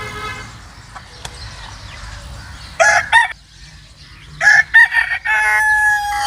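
Chickens and turkey hens at a private bird aviary and zoo, with loud bursts of crowing and clucking calls rising over a steady low background murmur of the enclosure.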